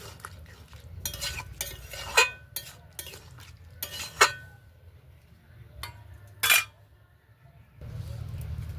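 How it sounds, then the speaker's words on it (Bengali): Potatoes with poppy seed (aloo posto) are stirred in a pan: a series of distinct scraping and clinking spoon strokes against metal over a low simmering bed, some strokes sharp and loud, others soft. "এবার ভালো করে মিশিয়ে নেব।"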